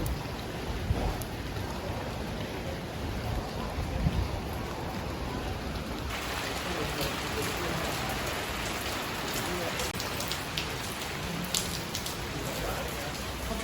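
Heavy monsoon rain and gusting wind in Goa make a steady, dense roar for the whole stretch. It grows slightly fuller and brighter about halfway through, and no voices are heard.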